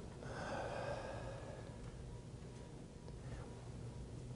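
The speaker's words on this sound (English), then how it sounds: "Take a deep breath with me right now." An audience in a room exhales together, a soft, broad rush of breath swelling over about a second and fading into quiet room tone, faint and without speech.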